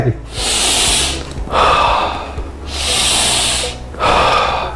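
Slow, deliberate breaths are heard up close in two full cycles, each a long airy inhale followed by a forceful exhale through the nose, demonstrated as a breathing technique for runners.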